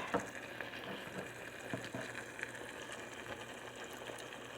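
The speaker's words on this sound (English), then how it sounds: "And I'm going to add a little water to that." Water is poured into a pan of simmering ramen on a stovetop, bringing a steady broadband sizzle and bubbling hiss that continues evenly throughout, close and moderately quiet, with no talking.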